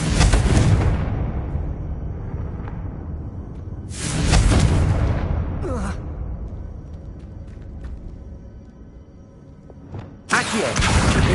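Confringo blasting spell in a Harry Potter video game, heard as a series of loud, booming explosive bursts with rumbling decay between them and a final sharp blast, with no voices.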